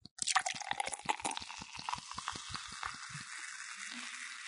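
Somen noodles sear in a hot frying pan for Napolitan, starting with a loud burst of sizzling and crackling spatter that settles into a steadier, fading hiss, close and without voices.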